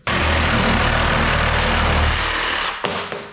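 A Makita DJR187 18V cordless reciprocating saw with a 32 mm stroke cuts through small pieces of wood. A loud, continuous, buzzing roar runs close up, then winds down and stops, followed by a couple of sharp knocks.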